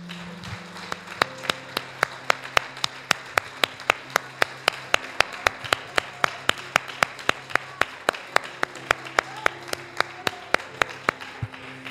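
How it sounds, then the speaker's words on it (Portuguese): A church congregation claps in worship, a steady run of sharp, evenly spaced hand claps at a moderate tempo that carries on for the whole stretch over a soft background murmur. "aplaude ao Senhor."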